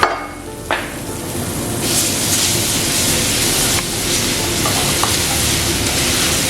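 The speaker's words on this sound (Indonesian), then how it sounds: "sekarang kita panaskan butternya, lalu kita masukkan bawang putihnya" Garlic sizzles in heated butter in a pan, a loud, continuous frying hiss broken by a few sharp clicks and scrapes of stirring.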